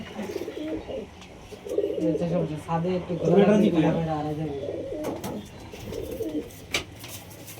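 Domestic high-flying pigeons coo in repeated throaty rolls at close range, building through the middle and fading, while someone talks over and around the calls.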